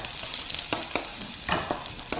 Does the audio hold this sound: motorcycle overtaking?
no